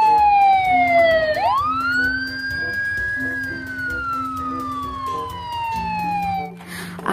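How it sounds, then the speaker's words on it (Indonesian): A toy ambulance's wailing electronic siren sweeps down, jumps back up and slowly falls again, loud and close, with a faint voice underneath. "Wah, ada mobil ambulan."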